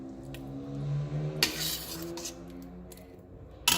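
A spoon scrapes and clinks against a pot as thickening beans are stirred, with a couple of sharper metallic knocks standing out from a low, steady kitchen background, close and fairly quiet.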